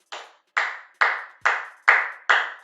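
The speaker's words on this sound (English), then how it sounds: "slow clap for the Falcons fans" Six single hand claps in a slow, evenly spaced rhythm, each sharp and close with a short decay, alone with silence between them.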